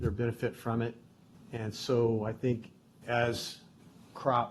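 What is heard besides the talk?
No everyday noise stands out behind the speech.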